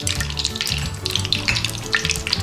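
Hot oil in a cooking pan sizzles and crackles steadily for a few seconds while rice-and-potato akhni pulao is being made, a continuous close hiss with no one speaking.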